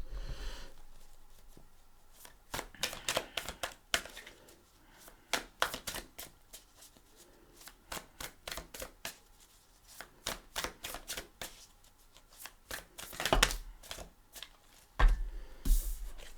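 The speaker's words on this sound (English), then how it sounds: "let's shuffle for your cards" Tarot cards are shuffled in repeated quick riffles, crisp rapid flutters in bursts separated by short pauses, close and fairly quiet.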